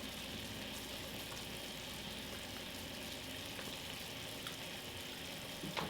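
A pot of curry at a rolling boil on the stove, giving a steady, quiet bubbling and sizzling hiss that continues evenly throughout with no talking.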